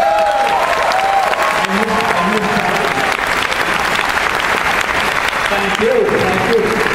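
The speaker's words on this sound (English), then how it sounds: "I wanted to maybe everybody give a round of applause." A crowd at a 2012 panel breaks into sustained applause, a steady, full wash of clapping throughout, with a speaker's voice faintly heard over it at moments.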